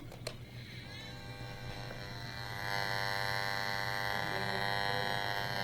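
A wireless radiation detector buzzes steadily near a cordless telephone being plugged in, its electronic hum and whine growing louder about halfway through and holding at a constant level, with no talking.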